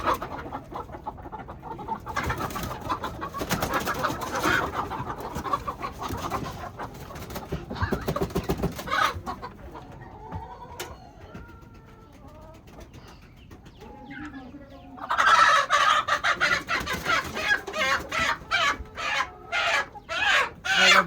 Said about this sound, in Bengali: এখন আমরা নিজেরাই মুরগি ধরবো